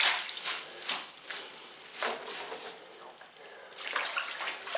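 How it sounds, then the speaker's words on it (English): Spinach is swished and lifted in a kitchen sink full of water, with continuous sloshing, splashing and dripping up close. "Now, dirt and grit will fall to the bottom of the sink, so it's best to lift the spinach out"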